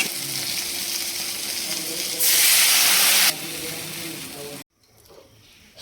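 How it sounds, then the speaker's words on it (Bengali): Fish, shrimp and crab frying in a pan with water, a loud steady sizzle that swells into a stronger hiss for a moment, eases off, then drops away sharply near the end. "চিংড়ি কাঁকড়া ভাজি হয়ে গেছে, মাছগুলো একসঙ্গে দিয়ে একটু নাড়িয়ে জল দিয়ে দিব।"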